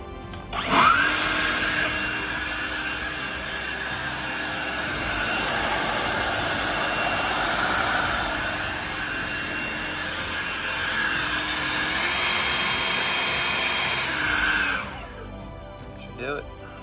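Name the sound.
leaf blower blowing out a turbo pipe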